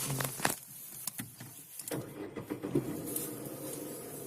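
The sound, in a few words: Renault Kwid car engine starting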